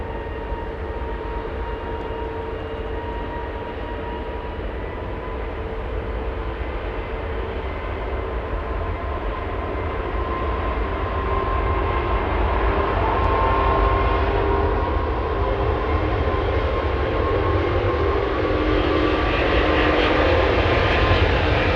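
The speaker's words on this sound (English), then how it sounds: "You know, I think that's as much of a turn and burn you're gonna expect from a A380." An Airbus A380 departing Los Angeles International Airport roars with a broad, steady jet engine rumble that swells louder as it climbs, continuous and heard from a distance, with no voices.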